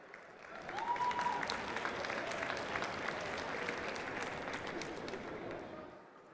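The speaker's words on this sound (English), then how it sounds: "Can we have a huge round of applause for our dignitaries, please?" Audience applause for dignitaries at the opening ceremony of the Women's World Boxing Championships in New Delhi swells after a moment and holds steady as a broad hall-filling clatter, with faint voices mixed in.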